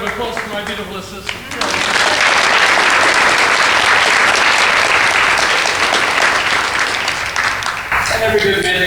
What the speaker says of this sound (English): And one more round of applause for my beautiful assistant.